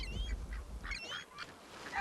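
Ducks quacking among geese, with several short, nasal calls scattered across a couple of seconds over steady outdoor background noise, moderately close.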